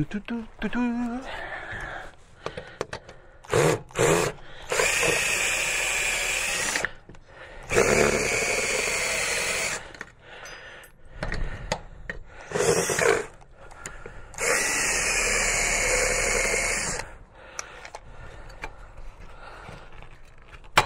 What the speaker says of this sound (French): je prends la perceuse, je fais sauter le rivet